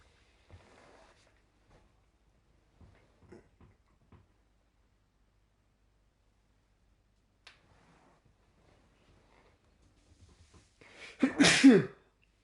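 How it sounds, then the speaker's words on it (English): Someone sneezes once, close and loud, after a stretch of near silence broken only by faint scattered clicks and rustles. "Just all sneezing."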